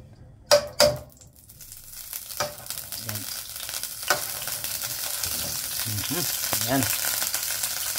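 Olive oil and butter fry in a pan, starting with a couple of sharp clanks, then building into a loud, close sizzle with stirring, and a brief word spoken partway through.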